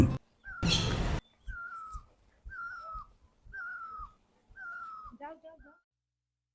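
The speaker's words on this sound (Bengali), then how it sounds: "ঝোপের ভেতর থেকে কি সুন্দর পাখির ডাক শোনা যাচ্ছে শুনুন" Clear, repeated bird calls come from bushes in misty, cloud-covered hills around Namchi, Sikkim, five or so separate whistled phrases at even intervals, near and distinct against a quiet background, with a brief burst of noise near the start.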